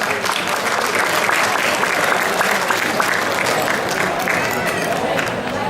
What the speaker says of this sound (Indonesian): Kalau setuju, ayo tepuk tangan